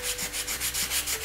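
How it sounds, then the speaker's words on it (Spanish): Sandpaper rubbed hard over chalk-painted wood to distress it, a steady rasping scrape in quick back-and-forth strokes, close and alone with no talk. "Vamos a empezar a desgastar con fuerza, porque la pintura tiza tiene mucho poder cubritivo y cuesta bastante."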